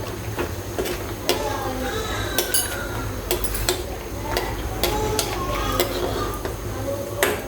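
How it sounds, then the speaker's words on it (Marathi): Makhana (fox nuts) roasting in ghee in a pan, with a steady low hum and a light background sizzle under frequent scattered clinks and stirring knocks against the pan, close and moderately loud throughout. "आता मखाने छान असे मखाने पण भाजून घेते तुपात"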